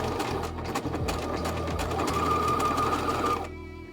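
A sewing machine runs steadily, stitching two fabric pieces of a bucket hat together, close and loud with a whirring mechanical hum that cuts off near the end.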